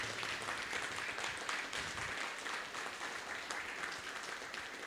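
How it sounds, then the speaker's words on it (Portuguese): A church congregation claps together in praise during a worship service with a profession of faith and baptism, a steady wash of many hands clapping at moderate distance, continuous and fairly even throughout. "Vamos recebê-los com alegria, batendo palma"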